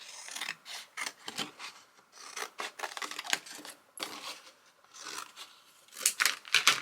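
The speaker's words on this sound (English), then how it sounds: "Let's cut that out." Scissors snipping through paper while cutting out a piece for a creative therapy journal, a run of close, quiet irregular cuts and rustles, with brief pauses.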